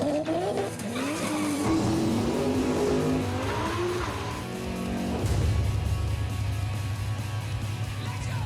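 Nissan GTR street race car doing a tire-spinning burnout, loud screeching tires and a revving engine whose pitch climbs and falls, then a dense roaring wheelspin rumble, close up.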